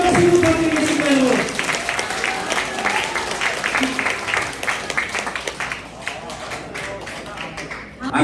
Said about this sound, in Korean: 여러분 우리 김영삼 후보님께 다시 한번 큰 박수 부탁드리겠습니다.